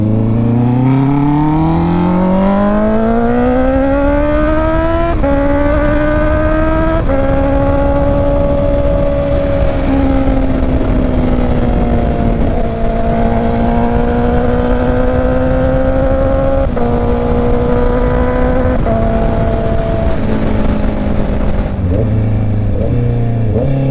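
A Honda CB650R motorcycle accelerating hard: its engine note climbs steadily in pitch, drops briefly at each gear change and then rises again, loud and close for the whole stretch, with no talk.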